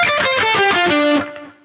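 Distorted electric guitar runs straight down a pentatonic scale, quick successive notes descending smoothly before a final lower note rings and fades out, loud and alone.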